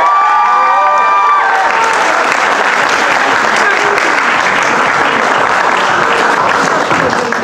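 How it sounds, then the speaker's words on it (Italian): Loud theatre audience applause fills the hall at a children's slam poetry event, dense steady clapping with some cheering that starts right away and carries on throughout, with voices audible at the opening. "Forte l'applauso."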